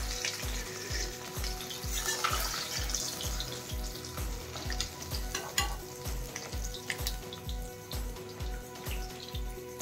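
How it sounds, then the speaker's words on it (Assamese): Fish pieces fry in hot oil with hog plum (amara), giving a steady, soft crackling sizzle. A regular thumping musical beat plays underneath. "মাছ কেইপিছো ধুনীয়াকৈ ফ্ৰাই হৈ গ'ল"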